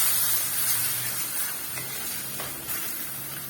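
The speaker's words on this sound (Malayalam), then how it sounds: "ചൂടുവെള്ളം നമുക്ക് ഒഴിച്ചു കൊടുക്കാം." Hot water poured into frying chili paste for a Kerala-style sardine curry sets off a loud, steady sizzle and hiss close by, gradually easing without any talking.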